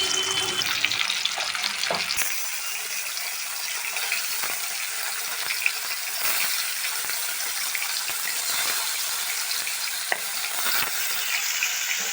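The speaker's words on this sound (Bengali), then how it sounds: "দেখুন আমি মাছগুলো কত সহজে উল্টে পাল্টে ভাজতে পারছি।" Loite (Bombay duck) fish frying in hot oil in a pan and being flipped, with a steady, bright sizzle throughout and occasional sharper clicks and scrapes from turning the pieces.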